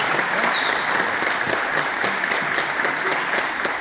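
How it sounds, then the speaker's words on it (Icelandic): A crowd gives dense, sustained applause at the Icelandic boccia championship in Blue höllin, the clapping loud and steady from start to finish with no voices rising above it. "Gefið þeim gott klapp"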